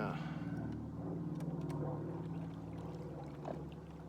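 An outboard motor on a small fishing boat runs hard at high throttle in muddy water, a steady low drone close by, with speech-like sounds over it.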